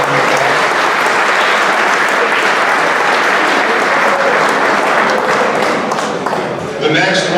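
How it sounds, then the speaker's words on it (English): A large audience at a school sports awards event gives a loud, sustained round of applause. The dense clapping continues steadily throughout and fades slightly at the end. "Let's give them a round of applause."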